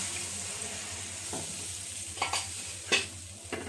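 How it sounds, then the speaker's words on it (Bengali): Spiced banana flower curry sizzles and fries in a pan as a little water is added and stirred in, giving a soft steady hiss with a few sharper bursts of spluttering. "কষানোটা হয়ে গেছে, এখন আমি অল্প কিছুটা জল দিয়ে দিই।"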